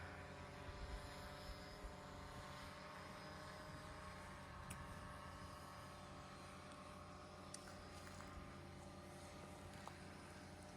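A drone flies overhead at the Edzná archaeological site, giving a steady, continuous buzzing hum with a faint high whine that holds throughout without fading.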